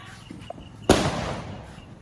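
A firecracker goes off at a village Diwali celebration: one sharp, loud close bang that decays into a rumbling tail, after a few faint pops and some background noise.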